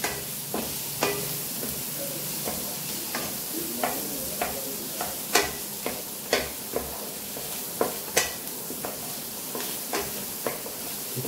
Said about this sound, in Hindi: चिकन डाल दूंगा और इसको भी सिर्फ सौते करेंगे